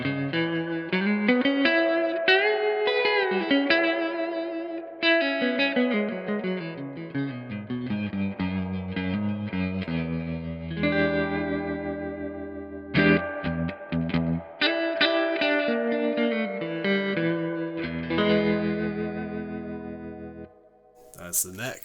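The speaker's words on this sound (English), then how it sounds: "I'm just going to play it with a little bit of tremolo on the amp and a bit more reverb." An electric guitar strung with flat wound strings plays a melodic phrase on the neck pickup through an amp with tremolo and reverb, notes pulsing and ringing out close and clear.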